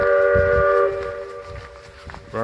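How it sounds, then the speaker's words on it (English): A distant train whistle from the Roaring Camp Railroad, heard in Henry Cowell State Park, sounds with sustained harmonic blasts that fade out, over low rumbling, then starts again briefly at the end. "Railroad is off in the distance,"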